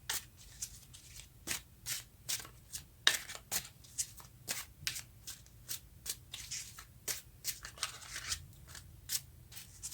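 Tarot cards being shuffled by hand, a quiet series of regular riffling bursts about two per second, near and alone.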